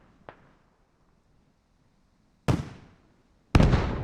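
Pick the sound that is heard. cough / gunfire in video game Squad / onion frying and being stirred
gunfire in video game Squad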